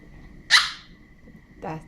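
A toddler of about a year and a half imitates a dog's bark at lunchtime, giving one sharp, loud yelp followed after a pause by a shorter voiced woof.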